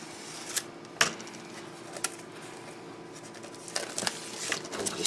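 Cardboard game pieces being punched out of punchboards while unboxing the Horrified board game, with scattered sharp snaps and pops at irregular intervals over a faint rustling background.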